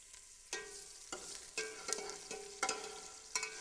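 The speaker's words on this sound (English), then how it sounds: "Just stir the ginger a little bit in the oil to get that aroma, that fragrance of fresh ginger." Fresh ginger frying in hot oil for carrot and ginger soup, a steady close sizzle punctuated by regular scraping stirs about every half second, with no voices.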